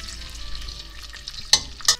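Chicken gizzards fry in a splash of vegetable oil and a little butter, giving a soft continuous sizzle with two sharp spatula scrapes against the pan near the end, no talking.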